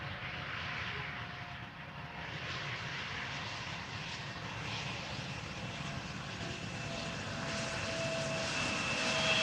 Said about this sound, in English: Small Embraer 170 arriving from Marseille, Air France op flight 1820.